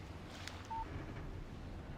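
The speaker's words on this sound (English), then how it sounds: "Text message from Barry." A short electronic alert tone from a phone in the video game Alan Wake sounds once, faint and brief, over a quiet low hum.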